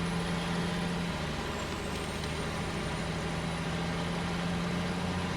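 A heavy truck engine runs steadily in top gear while hauling along a highway in the game Snowrunner, a constant loud droning rumble with a faint high whine, with no pauses or talk.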